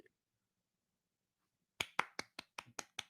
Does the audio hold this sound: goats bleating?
no